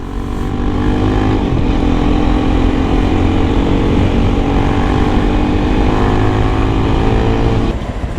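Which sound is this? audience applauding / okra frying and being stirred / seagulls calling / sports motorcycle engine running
sports motorcycle engine running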